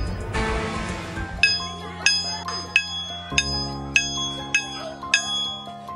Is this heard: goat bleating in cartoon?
no